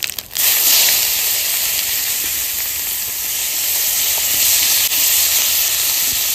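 Cumin, bay leaves and onion sizzle in hot oil left over from frying fish, the start of a home-cooked fish curry; a loud, steady hiss continues without a break and is heard alone.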